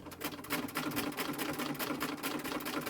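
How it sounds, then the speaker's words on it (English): A new sewing machine stitching down a pinned seam on a 1920s-style dress bodice, a steady rapid mechanical chatter running continuously up close. "then we sew that down, making sure that the pins don't munch up the inside of our lovely new sewing machine"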